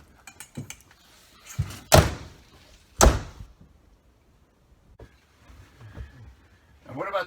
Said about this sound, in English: Just shut the doors.